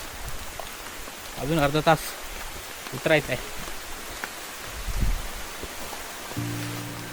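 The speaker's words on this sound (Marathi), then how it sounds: "बाहेर पाऊस कोसळत होता" Steady monsoon rain falls through dense forest on a wild trek in Tailya Ghat, Maharashtra, a constant close hiss of drops on leaves and ground, with people talking over it.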